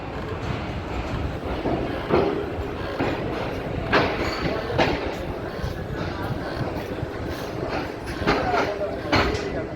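The 15 Up Karachi Express pulls out of Multan station with a continuous rumbling roll, periodic wheel clatter and faint squeals, and voices mixed into the steady noise.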